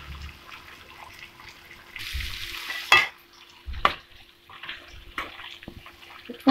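Chicken malai kadhai masala with green chilli and garam masala being mixed in a pan over medium heat, with intermittent scrapes and soft wet stirring sounds and a few sharper clacks, nearby and moderately quiet, without talk.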